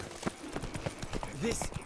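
Horse hooves clop along in The Witcher 3: Blood and Wine, a steady rhythm of soft hoof hits at a trotting pace, mixed with game ambience and a voice talking.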